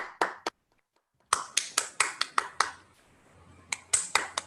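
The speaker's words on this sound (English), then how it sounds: "let's give them a round of applause again" A small group claps at the close of a reading-group session, a sparse run of separate hand claps with short gaps rather than a full roaring ovation, close and fairly faint.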